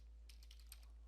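Quick run of keystrokes on an ASUS BR1402 laptop keyboard, a handful of light clicks clustered close together over a low steady hum, no voices.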